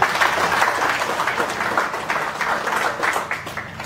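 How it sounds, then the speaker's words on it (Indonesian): Audience applause at a church gathering marking a congregation anniversary, steady clapping from a crowd of guests lasting the whole moment, fairly loud and even with no talk over it. "Mari kita tepuk tangan dulu."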